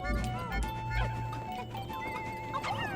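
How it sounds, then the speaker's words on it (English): Stock horse sounds in the Pikmin 2 video game: hoof clip-clops and a whinny over busy game music, with someone talking over it. "The little clip-clop of the hooves."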